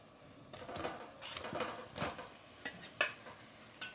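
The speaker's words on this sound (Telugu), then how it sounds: "నేను ఇంకో బంగాళదుంప ముక్కలు వేసేస్తున్నాను." Potato pieces and onions cooking in a pan for a spiced potato curry, with scraping stirs and faint sizzling, a few clinks of utensil on the pan, fairly quiet and close, no talk.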